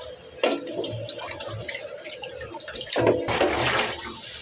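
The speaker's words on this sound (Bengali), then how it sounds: "মাংসটা কেটে নিয়েছি এখন ধুয়ে নিব ভালো করে" Cut chicken meat being washed by hand under running water: splashing, gushing water with swishing bursts as the pieces are rinsed, close by, with no talk.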